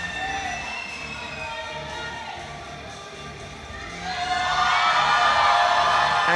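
Crowd at a women's 57 kg powerlifting competition cheering a lifter, a steady murmur of voices that swells into louder whoops and shouts in the last seconds.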